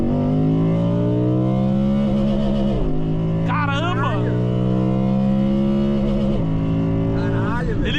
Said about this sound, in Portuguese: o barulho do motor vem mais ainda pra dentro do carro